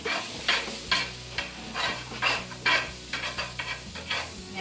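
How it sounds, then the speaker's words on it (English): Turkey tetrazzini mixture is stirred in a pan, with a steady rhythm of close, soft scraping and sloshing strokes about every half second and a faint sizzle beneath. "And then you're going to stir."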